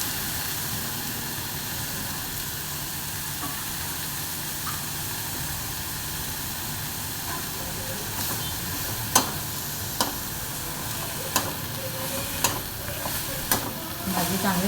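Shepu (dill leaf) vegetable sautéing in a pan, a steady soft sizzle and hiss throughout, with a few sharp clicks and scrapes of stirring toward the end.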